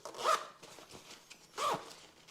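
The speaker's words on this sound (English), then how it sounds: "when you're done with it, you simply zip up each of the zippers" Two quick zips close up as the zippers on a roll-up bike saddlebag are pulled shut, each a short rasping stroke about a second apart with a softer rustle between.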